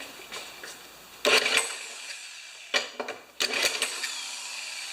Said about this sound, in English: And I'm using an electric drill too, right?